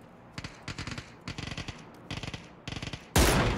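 Bursts of automatic gunfire in PUBG, five rapid volleys of close, sharp shots separated by short pauses, ending in a sudden loud blast or impact.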